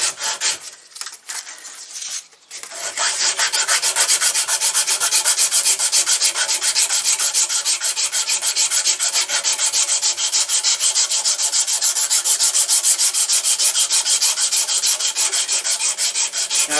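Someone sands a wooden pistol handle by hand with fast back-and-forth rasping strokes, close and loud, continuous after a few hesitant scrapes at the start, with no voices.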